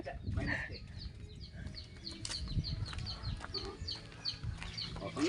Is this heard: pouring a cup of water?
no